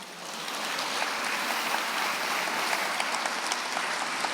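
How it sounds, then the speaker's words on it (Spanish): A church congregation breaks into sustained applause, a dense even roar of many hands clapping steadily for several seconds with no voices above it. "ellos aplauden, a lo mejor ustedes no lo entienden"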